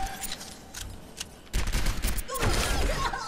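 Gunfire at training bots in the Overwatch tutorial: scattered single shots at first, then rapid, loud bursts of automatic fire with mechanical clicks between volleys.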